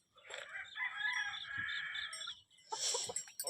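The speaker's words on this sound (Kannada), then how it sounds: "ನಮ್ಮ ಕೋಳಿರದು ಇಷ್ಟ ಅದ ನೋಡ್ರಿ." Farmyard chickens and a rooster: a long, loud cock-a-doodle-doo crow carrying over soft clucking, followed by a burst of further squawking and clucking near the end, with no talk.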